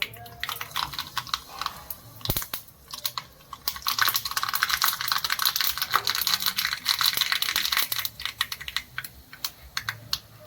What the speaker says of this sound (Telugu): ఆవాలు చిటపట్లాడాక